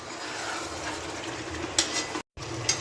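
Potatoes fry with spices in a pot for mutton biryani, a continuous soft sizzling hiss with a couple of small clicks and a brief cut to silence.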